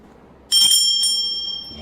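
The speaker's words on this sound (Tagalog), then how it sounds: "The exorcised blessed bell." A small blessed bell used in exorcism rings with a bright metallic strike, sustaining a clear ringing tone that decays slowly, close and loud, with a second faint tap partway through.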